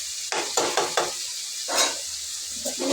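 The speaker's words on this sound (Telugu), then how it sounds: "చికెన్ వేసేసిన అల్లం వెల్లుల్లి పేస్ట్ పసుపు ఉప్పు బాగా పట్టేలాగా ఒక్కసారి కలిపేసి" Chicken coated in ginger-garlic paste, turmeric and salt is stirred in a pan, with several close scraping stir strokes over a soft background sizzle.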